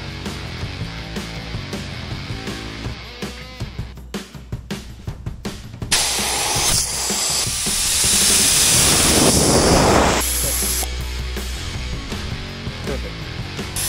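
A MORRFlate TenSix air compressor with a quad inflation kit, used to air up an aired-down Jeep, runs as a loud, steady hissing rush of air amid clanks and mechanical noise, swelling for several seconds before easing back.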